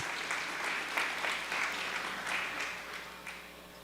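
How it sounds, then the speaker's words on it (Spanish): Sparse, fairly quiet applause at a sustainable finance forum held by a business administration school, with individual claps audible as the audience welcomes guests to the stage. "Un aplauso para ellos y los invitamos al escenario."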